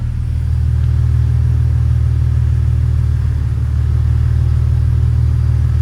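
A BMW E46 engine idles with a steady, close, low droning hum as the car is put into gear after a clutch replacement, with no talk over it.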